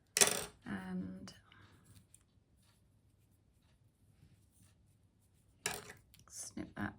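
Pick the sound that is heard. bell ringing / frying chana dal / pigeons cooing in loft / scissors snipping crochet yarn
scissors snipping crochet yarn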